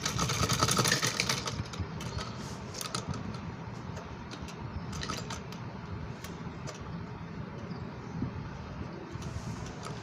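A sewing machine stitches net fabric for a small dress with a fast, even mechanical whir that runs steadily throughout at moderate loudness.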